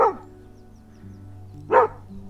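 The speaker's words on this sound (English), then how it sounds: "What are you barking at, Nina?" A single dog bark at the start, then a pause over low background hum, followed by a second sharp bark, in a forest garden.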